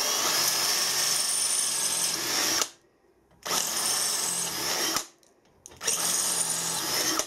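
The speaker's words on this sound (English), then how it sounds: "I'll put a drill through the holes and see what they clean up like" A power drill whines loudly through plasma-cut metal in three sustained bursts, separated by short quiet pauses, clearing out the holes.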